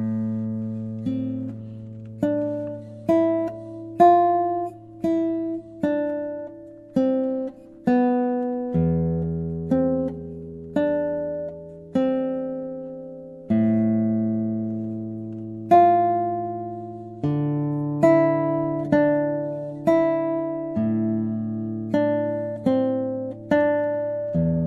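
Classical guitar playing Noad exercise 29 without phrasing, a steady series of evenly plucked notes with matched loudness, each ringing and decaying before the next, close and alone.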